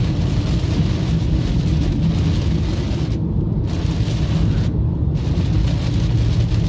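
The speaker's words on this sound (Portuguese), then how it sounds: "Agora com chuva." Steady rain falls around a Fiat Argo with low rumbling that may be thunder, a dense continuous wash of noise at close range, with two brief dips where the hiss drops out.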